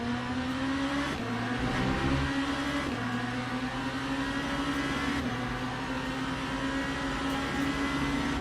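A BMW race car in the racing game Le Mans Ultimate, its engine droning at a steady high pitch with brief shifts and small revving changes, continuous and close throughout, with no talk over it.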